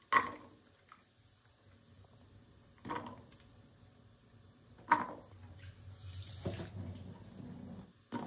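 Water poured over jackfruit seeds in a pot to boil them, in a few short, faint splashing pours separated by quiet pauses, with no talking.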